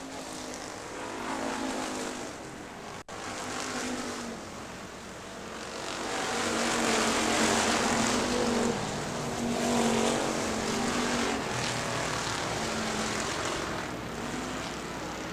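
Factory stock cars race on the oval at Hartford Speedway Park, a loud continuous engine roar that swells and recedes as the pack thunders past, several cars running side by side, heard alone without voices.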